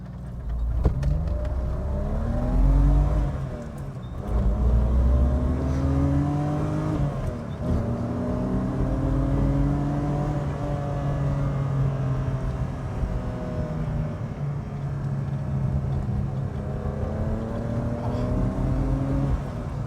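A BMW E28 Hartge H5 SP pulls away and accelerates, its engine note climbing in repeated rising sweeps through the gears, loud and close from inside the car, with no talk.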